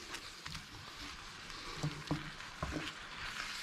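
Butter melting in a pan for Salisbury steak, a soft steady sizzle running throughout with a few faint clinks and stirring sounds, close and fairly quiet with no talk.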